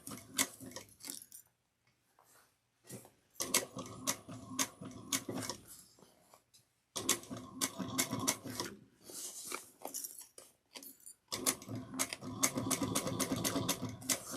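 A sewing machine backstitches strap connectors on a sling pack, running in several bursts of rapid mechanical stitching with short pauses and quiet gaps between runs.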